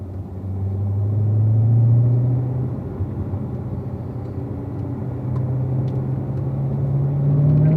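Cars rolling onto a race track entry and shifting from first gear up to second, heard as a close engine rumble whose pitch rises, drops at a gear change, then climbs again.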